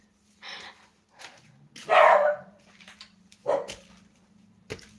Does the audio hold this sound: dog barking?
yes